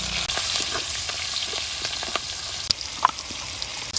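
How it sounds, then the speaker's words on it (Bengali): Chopped onion and green chillies frying in oil in a pan, a steady close sizzle with scattered pops and light crackles throughout and no voices. "আর একটু তেল দিয়ে দিলাম পিঁয়াজ কুচি কাঁচামরিচ"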